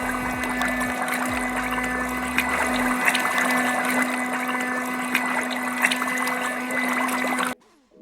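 Water runs steadily into a foot bath for about seven and a half seconds under a constant mechanical hum, likely a motor, then stops abruptly.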